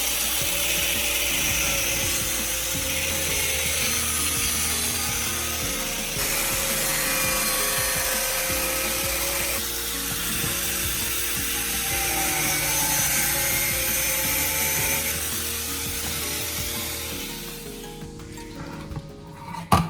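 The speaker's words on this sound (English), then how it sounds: "Secure the pipe in a vise and begin cutting along the marked line." A pipe held in a vise being cut along a marked line, giving a steady continuous rasping saw sound close by for most of the stretch, with no talking, tailing off near the end.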